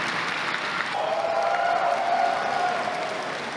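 An audience at Sony's E3 2015 press conference applauds with a broad, steady wash of clapping from a large crowd, a sustained tone running underneath.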